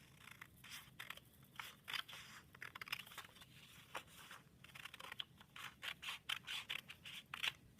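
Scissors cut through craft paper to make a lantern handle, producing many quick, close snipping strokes in irregular bursts, fairly quiet, with no talking over them.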